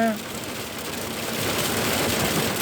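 Steady hail-laden rain pours down, a dense hiss of drops hitting surfaces that grows slightly louder and continues without pause.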